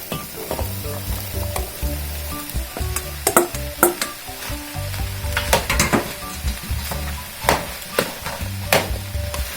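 Squash added to a hot pan with corn kernels for a smoked pork chop dish, a strong close sizzle with frequent scraping and clattering stir strokes throughout.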